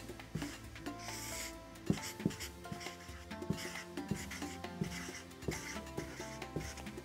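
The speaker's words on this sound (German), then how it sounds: "Die meisten zeichnen jetzt den schiefen Turm von Pisa wie folgt." A pen scratching across paper while sketching the Leaning Tower of Pisa, steady rubbing strokes with repeated sharper marks, close and moderately loud, with faint hum underneath and no talk.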